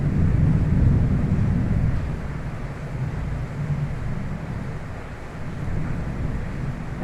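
Deep, continuous thunder rumbles through a home kitchen, a loud low roll that swells and eases over several seconds with no talking.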